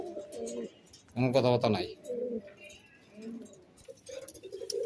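Budapest racing pigeons cooing in a loft, a short burst of throaty coos surfacing among close male speech in Bengali.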